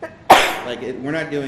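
A single sharp sneeze bursts out loud and close during a library board meeting, then talk resumes right after it.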